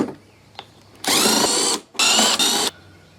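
A power driver with a 10mm socket spins out bolts on a Troy-Bilt machine's tank: two loud, close whirring bursts of about a second each, separated by a short pause, after faint clicks.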